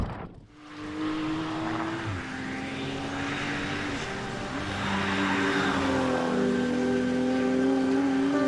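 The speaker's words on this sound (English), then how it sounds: "here's the footage of me going in slow motion through it with the race car" A race car driving through the Wippermann section of the Nürburgring, its engine droning with steady tonal pitch shifts as it shifts and accelerates, loud and close, with no talk.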